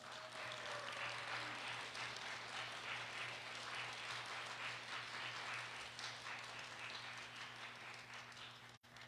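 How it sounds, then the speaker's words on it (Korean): A church congregation at a guest revival meeting applauds to welcome the pastor, a sustained, fairly distant wash of many hands clapping with a low steady hum underneath, cut off sharply near the end. "우리 목사님 나오실 때 우리 큰 박수로 환영하겠습니다."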